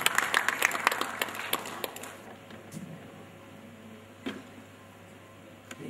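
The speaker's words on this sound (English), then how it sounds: "a big round of applause for Mr. Narendra Kumar Jain" Audience applause at the Mauritius Dancing Star 2015 event, a brief scattered round of clapping that fades after a couple of seconds, followed by a quiet hall with a few isolated claps.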